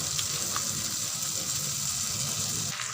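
Ground spice paste added to frying tomato with salt and turmeric in a pan, giving a steady, fairly loud sizzle with a few faint stirring scrapes and no talking.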